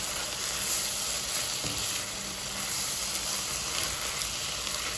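A meaty veggie pasta sauce with Worcestershire and vinegar sizzles and fries steadily in a pan, a continuous soft hiss with a brief stir partway through, no voices.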